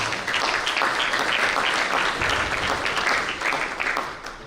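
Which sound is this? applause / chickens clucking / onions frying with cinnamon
applause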